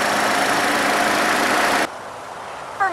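A Nissan Rogue's 2.5-liter inline-four engine idles with a steady, even hum for about two seconds, then the sound drops away to quiet; no one speaks.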